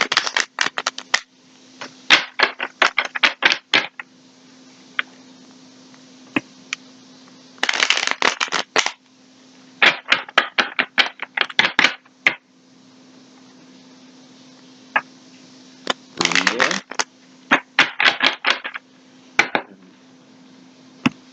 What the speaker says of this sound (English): As I shuffle, Spirit gives me instructions as to how to shuffle